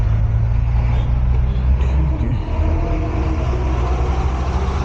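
City road traffic heard from a Kawasaki Ninja 1100SX motorcycle is a constant, loud rumble of engines and road noise on a sunny day, with no break in the dense flow of vehicles.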